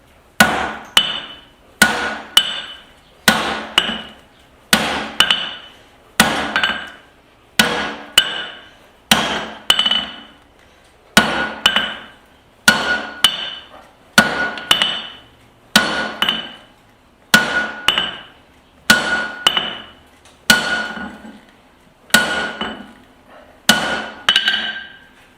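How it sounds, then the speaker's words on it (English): Hot steel is hammered on the horn of an anvil with a 6-pound short-handle sledgehammer while forging a garden cultivator, giving a steady run of about twenty loud, ringing blows at an even rhythm, close and alone. "I'm going to attempt to open this up on the horn with my 6-pound short handle sledgehammer."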